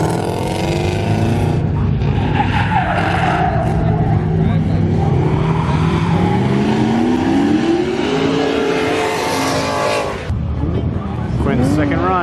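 A car drifting on a track roars continuously with engine revving and tire squeal, loud and close throughout, with people talking and shouting over it.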